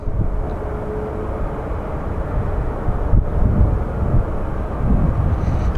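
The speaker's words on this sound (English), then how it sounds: "it's an American Airlines 737 coming in" American Airlines Boeing 737 coming in to land at Phoenix Sky Harbor, a loud, rumbling jet roar with low buffeting throughout, steady with slight surges and no voices.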